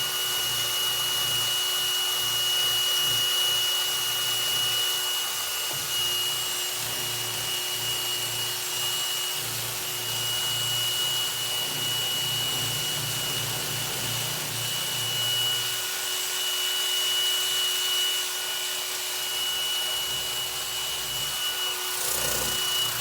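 Tapered sandpaper rubbed by hand between the runners of an LS6 intake manifold, making a continuous close scratchy hiss with uneven back-and-forth strokes.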